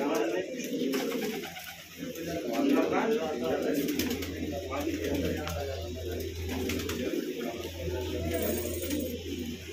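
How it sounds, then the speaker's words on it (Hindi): Pigeons coo and murmur in a loose, continuous chorus, with human voices and background noise mixed in. "ये सब भाई जोड़ वाले कबूतर"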